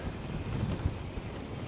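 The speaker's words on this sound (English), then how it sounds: "Gosh, it's windy right now on this ridge." Wind roars across the microphone in low, blustery gusts on a mountain bike trail ridge, with a few heavier thumps mixed in.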